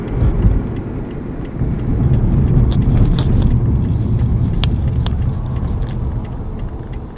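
A Toyota RAV4 slowing to a stop at a red light gives off a loud, steady low rumbling vibration heard from inside the cabin, with a few faint clicks and rattles over it.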